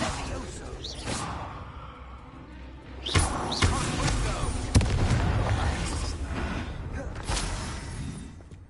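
Confringo blasting spells fired in Hogwarts Legacy, several booming explosions with whooshing bursts at irregular intervals, loud and close, over game ambience with some voice.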